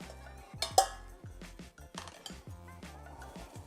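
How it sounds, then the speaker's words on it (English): Fresh cherries tumble into a metal cooking pot for a cherry filling, a cluster of bright clinks and light knocks near the start followed by softer scattered taps and rolling bumps, close and fairly quiet. "So our cherries are going into our pot here."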